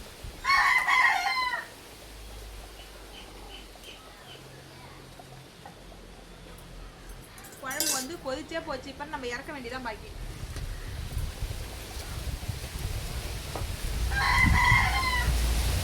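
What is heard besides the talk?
chicken clucking and rooster crowing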